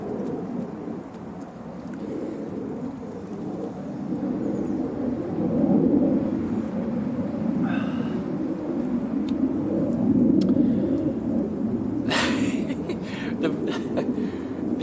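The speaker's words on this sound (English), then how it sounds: "the airline traffic today is just ludicrous" Airplanes pass high over a dense spruce forest, a broad, distant rumble that swells and fades across the stretch, with a few brief sharp noises nearby.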